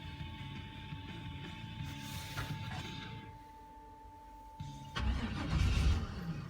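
A turbocharged Chevrolet Colorado is cold-started in 23-degree weather, a steady whine and rumble dropping away before the engine catches with a louder rough burst near the end.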